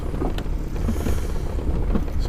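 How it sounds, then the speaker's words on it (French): Wind rising suddenly over the sea off Corsica aboard a fishing boat, a steady broadband rush and buffeting with low rumble, fairly loud and close, no talk. "Le vent se lève d'un coup."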